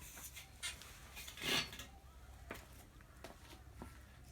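Small plastic tie-down strap pieces dropped into a metal pan, giving a few faint clattering taps with one louder rattle in the middle, in a quiet room.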